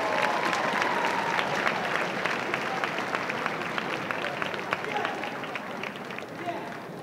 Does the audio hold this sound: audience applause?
yes